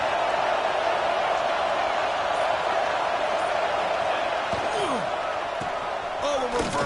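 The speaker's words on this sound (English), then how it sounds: "And here comes the noise. This crowd is trying to inspire this defense to make a big red zone stop." A college football stadium crowd at USC vs Notre Dame roars during a red zone defensive stand, a loud, sustained wall of noise that holds steady and swells slightly, with a commentator talking over it.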